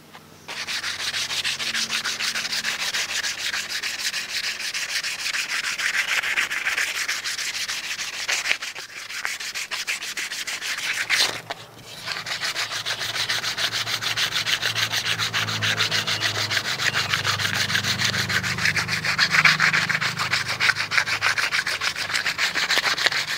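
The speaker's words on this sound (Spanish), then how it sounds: "Ahora voy a lijar más o menos" Continuous hand sanding on wood, a steady rough scratching rhythm that pauses briefly midway before resuming.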